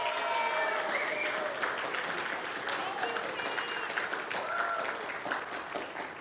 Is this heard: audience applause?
yes